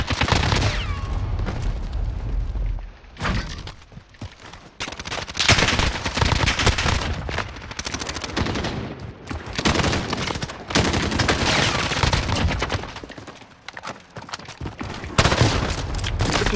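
Loud gunfire in the Call of Duty: Modern Warfare video game, including a shotgun, heavy repeated blasts and bursts packed close together with short lulls between volleys.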